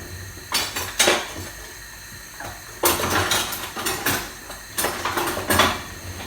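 Pots, pans and utensils clatter and clink in bursts as someone rummages through kitchen gear for a wooden spoon, several clusters of rattling with short pauses between them, close and alone without talk.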